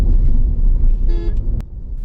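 Horn of an army vehicle on a high mountain road between Hanle and Umlingla Pass, sounding once in a brief mid-clip honk over a steady engine rumble, followed by a sharp click.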